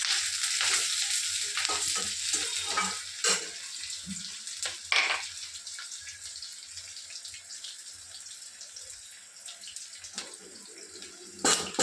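Potatoes and egg frying together in a small amount of oil, a steady soft hiss and crackle with occasional scraping and stirring clatter over the sizzle.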